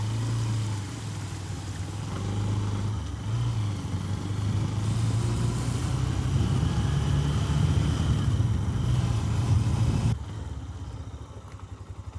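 A toto e-rickshaw moves along a flooded road with a steady low rumble and rattling clatter, loud and close, plus a watery wash. The noise drops off sharply near the end.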